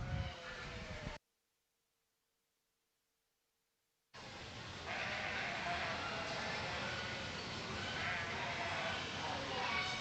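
Sheep bleating among yearling ewes in the ring at the Nebraska State Fair open class sheep show: brief calls at the start, a short gap, then a loud, busy show-barn din, with an announcer's voice over the arena sound.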